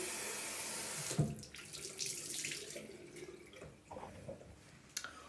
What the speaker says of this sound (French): Donc on le rince bien, pareil, à l'eau chaude tiède.